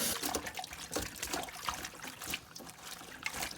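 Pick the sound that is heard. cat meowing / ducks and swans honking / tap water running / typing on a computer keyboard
tap water running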